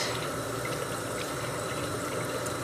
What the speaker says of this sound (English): I'm just going to squeeze down from the top again to try and get as much water out